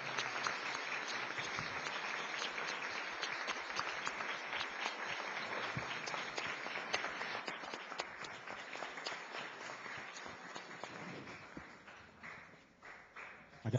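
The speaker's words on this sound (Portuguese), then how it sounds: "peço a todos os presentes uma salva de palmas para os homenageados dessa tarde" Applause from a crowd at a municipal council meeting honoring guests, sustained clapping that gradually thins out toward the end.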